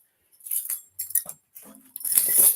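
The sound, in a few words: black dog moving around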